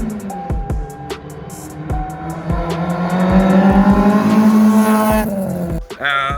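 A 600hp Mazda RX-7 with a 13B semi-peripheral-port rotary engine drives close by, its loud engine note climbing and falling through repeated revs, with a brief tire squeal near the end.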